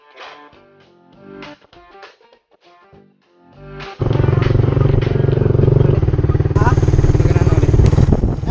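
A Suzuki Raider 150 motorcycle engine in a drag race setting gives some scattered clatter and a faint voice, then a loud, close, steady revving roar that rises in pitch and holds to the end.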